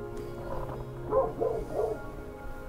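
A dog rescued from a shelter barks and yips in a few quick, moderately close bursts inside a home, with a television murmuring in the background.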